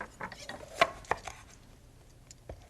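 Red pepper chopped on a board for sofrito, a few soft knife taps, two sharper chops standing out, quiet and close with no talking.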